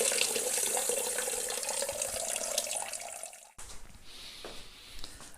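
Blackcurrant wine juice runs out of pressed fruit pulp in a steady, splashing trickle that cuts off abruptly, leaving a few quieter drips and small liquid sounds afterward.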